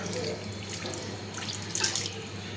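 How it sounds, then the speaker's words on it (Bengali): Water is poured from a mug into a pot of mixed fish curry, a steady close splashing gush that lasts a couple of seconds and stays fairly soft. "1 ডাব্বু পানি দিয়ে দিলাম।"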